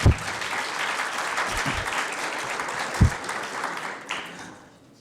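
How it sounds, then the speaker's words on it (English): An audience at a university fall semester closing program applauds the teaching assistants, a dense burst of clapping from a crowd that holds steady for about four seconds and then fades out, with a few louder thumps near the microphone. "Can we give them a very big hand of applause?"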